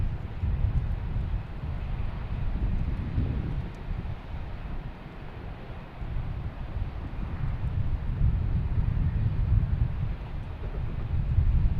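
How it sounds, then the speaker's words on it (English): An Alaska Airlines Boeing 737-900, flight 306 from Seattle, arrives at Boston Logan, its steady low engine roar rumbling continuously amid wind buffeting the microphone, with no talk. "Flight 306 coming in from Seattle."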